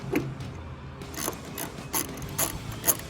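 A hand ratchet backs out a bolt from a truck tailgate shock, giving a series of crisp, irregular metallic clicks close by with no speech.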